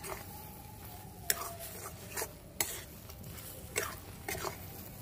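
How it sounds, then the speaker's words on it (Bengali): Cabbage mash (bhorta) is stirred in a pan over a soft, continuous sizzle, with a utensil scraping the pan in several distinct strokes spaced a second or so apart. "সমানে এইভাবে নেড়ে যেতে হবে যেন নিচে লেগে না যায়"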